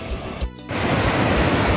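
A waterfall near Praia das Lajes beach roars as a steady broadband wash, loud and close, briefly dipping before settling into a constant rushing noise.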